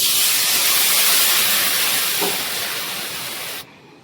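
Loud, steady hiss of water poured into a hot pot of frying rice, cashews and raisins for khichuri, sizzling and steaming continuously for several seconds before cutting off abruptly.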